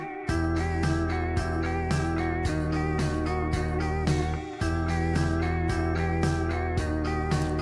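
An electric bass repeats two simple notes in a steady sixteenth-note rhythm within a mix, tight and continuous apart from a brief dropout midway.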